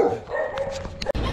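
A dog barks and yips a few times close by, short excited calls with a whimpering edge, followed by a sharp knock.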